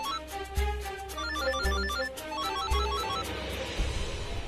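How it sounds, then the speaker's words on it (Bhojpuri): A mobile phone rings with an incoming call, a melodic ringtone repeating in a steady pattern at moderate volume with soft thumps beneath it. "हमरा की काहे फोन करत बिया?"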